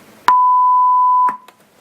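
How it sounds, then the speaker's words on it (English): A single loud, pure electronic bleep holds steady for about a second, framed by brief clicks at its start and end. "it bleeps out foul language"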